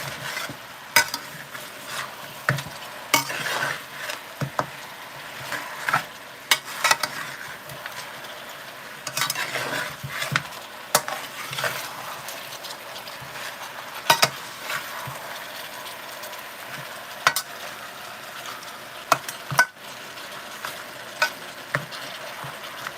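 A spoon scrapes and stirs turkey necks and stew peas in a pot, with irregular clinks and scrapes against the pot over a low sizzle and bubbling, close by and with no talking.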